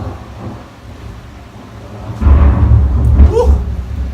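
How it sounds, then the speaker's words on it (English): Thunder heard through an open window during a storm in Western Australia, a deep rolling rumble that swells midway and keeps grumbling, with a faint voice-like sound near the end. "I'll open the window, you can hear the thunder."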